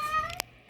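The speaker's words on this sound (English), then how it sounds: "This cat don't even want nothing. He just wants some attention." A cat gives a single meow, close and fairly loud, rising then falling briefly before a sharp click and quiet.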